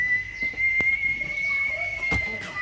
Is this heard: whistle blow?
yes